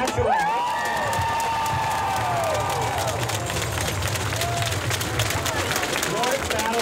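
A rally crowd of around 3,000 people at a Saskatchewan public education and teachers rally cheers, shouts and whistles continuously, a loud, dense roar that holds steady throughout with scattered louder yells.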